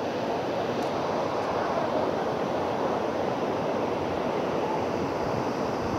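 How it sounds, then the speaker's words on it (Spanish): Salto waterfall in Cuetzalan, in the Sierra Norte de Puebla, makes a steady, dense roar of falling water that holds unchanged and fills the whole stretch with no voices. "Esta es la cascada del Salto."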